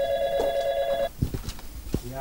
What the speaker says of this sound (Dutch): ik hoor de telefoon overgaan